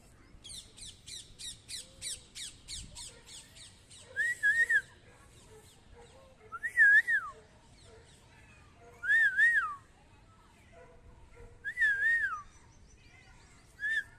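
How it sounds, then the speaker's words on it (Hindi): A person whistles to call a mother cat: a quick run of sharp chirpy squeaks, then four separate loud two-note whistles spaced a few seconds apart, with quiet gaps between them. "मैं सीटी मारता हूँ तब आती है।"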